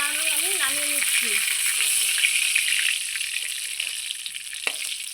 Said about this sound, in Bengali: আস্তে আস্তে হিট দিয়ে এরকম করে সুন্দর করে ভেজে নিতে হবে